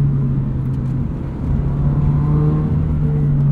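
Steady interior drone from a modified automatic Toyota GR86 on canyon roads: a loud, constant engine hum with a strong low tone that rises slightly as it pulls.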